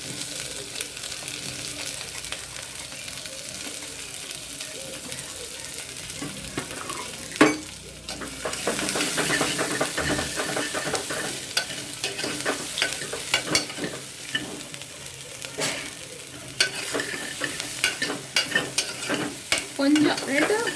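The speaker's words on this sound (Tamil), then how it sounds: "2 வெங்காயம், சின்ன வெங்காயம், பெரிய வெங்காயம் ரெண்டுமே கொஞ்சம் வதக்கிக்கலாம்." Small and large onions sautéing in oil for hotel-style sambar, a constant close sizzle broken by frequent scraping strokes of a spatula against the pan, with a louder clatter partway through.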